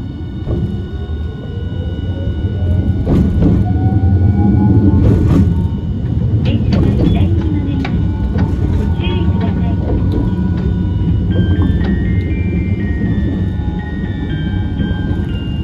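Hiroshima Electric Railway 1000-series PICCOLO tram on the Ujina line pulling away and rolling on rails: a steady low rumble with rising motor whine and intermittent clunks over joints, heard close from inside.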